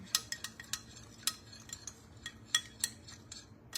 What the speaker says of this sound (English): I see some in the bottom, so I'm gonna stir again.